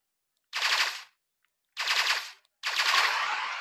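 Three bursts of rapid automatic gunfire in the video game Impulse, each a dense crackling volley lasting under a second, the last one longest, with silence in between.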